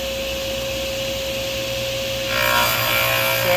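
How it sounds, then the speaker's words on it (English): A spinning table saw blade is raised into a piece of wood, its steady whine turning into a harsher, louder cutting rasp partway through, heard up close with no voices. "Turn the saw on, and I can raise my blade."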